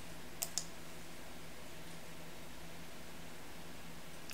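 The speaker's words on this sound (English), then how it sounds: "I'm going to click continue." Two quick, crisp computer mouse clicks sound close together near the start, then only faint room hiss follows.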